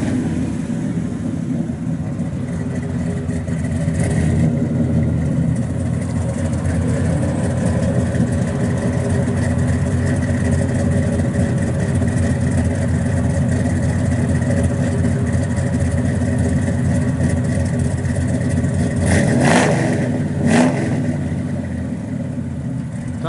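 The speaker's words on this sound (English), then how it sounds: "Nice dual exhaust out the back." A 1967 Chevrolet Chevelle SS 396 V8 with a four-speed, mild cam and dual exhaust rumbles at a lumpy idle, loud and near, with a couple of short blips of revving toward the end.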